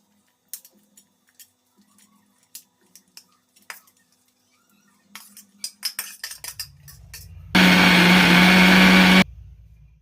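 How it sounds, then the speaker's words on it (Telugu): Clinks and taps of spices being loaded into a mixer grinder jar, then the mixie whirs loud and steady for about two seconds grinding a dried masala with tamarind before stopping. "మసాలా బాగా ఆరిందంటే మిక్సీకి వేసుకుందాం ఇప్పుడు"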